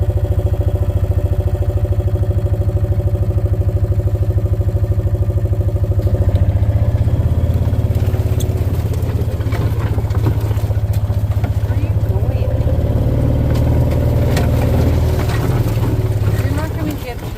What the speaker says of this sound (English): I'm in a Kawasaki mule. I can drive through anything.